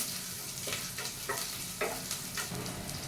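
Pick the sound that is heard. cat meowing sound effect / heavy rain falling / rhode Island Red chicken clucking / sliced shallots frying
sliced shallots frying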